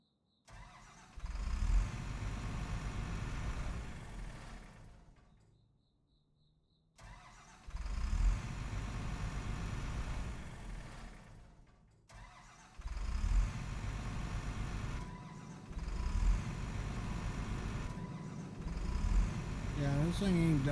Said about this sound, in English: I'm trying to start the engine.